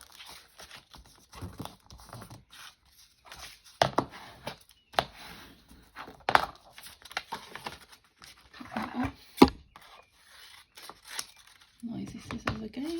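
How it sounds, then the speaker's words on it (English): Scissors snip through paper for small journal pockets, a series of crisp, irregular cuts and crinkles up close, with brief quiet gaps and a voice talking in places. "Noisy scissors again."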